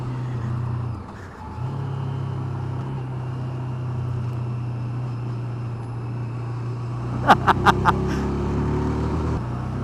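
A V-twin engine in a three-wheeled car runs steadily at low revs, a continuous droning rumble with a few sharp rattly knocks near the end and no speech.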